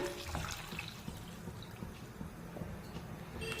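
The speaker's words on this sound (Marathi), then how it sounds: "आता यामध्ये साधं पाणी टाकूया" Plain water is poured over drumsticks in a vessel, making a faint, continuous trickling and splashing with occasional drips, close but quiet, with no voices.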